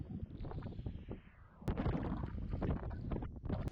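Strong wind gusting outside a polytunnel, a steady rushing roar that swells louder halfway through, with rattling and flapping from the tunnel covering.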